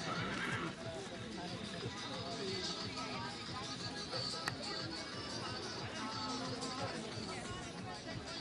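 At a village festival in Csetény, Hungary, a horse neighs and hooves clip-clop amid a murmuring crowd, with announcer speech and general babble over a busy outdoor background.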